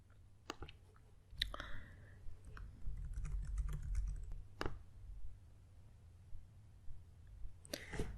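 Typing an email and password on a computer keyboard, close bursts of key clicks separated by pauses, with a low background hum and no speech.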